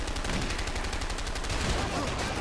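Rapid automatic gunfire in the video game A Way Out, a dense continuous rattle of shots filling the whole moment, loud and close.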